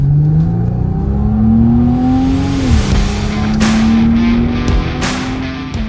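A car on a hot lap tears across asphalt, its engine note climbing steadily and then dipping sharply as it shifts gear and surges again, loud and close throughout.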